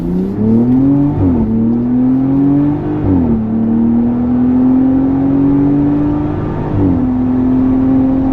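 A 2025 Ram 1500 RHO pickup's 3.0L twin-turbo engine, fitted with an MBRP 3-inch cat-back dual exhaust, revs hard at wide open throttle, its pitch climbing steadily and dropping briefly with each gear shift, loud and close.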